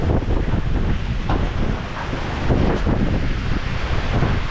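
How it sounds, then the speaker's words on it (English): Strong summer storm wind buffeting hard and continuously, a loud roaring rush with gusts swelling and easing over a few seconds, no voices. "So it is just hellaciously storming."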